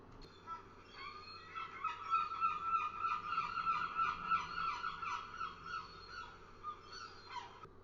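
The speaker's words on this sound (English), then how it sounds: "it's got a very loud sound of a seagull" A seagull calls in one long, wavering series of harsh, nasal cries, fairly faint and heard on its own.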